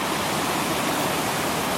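Steady, broadband rushing of a waterfall in Germany's Black Forest, constant and dense for under two seconds with no other sounds.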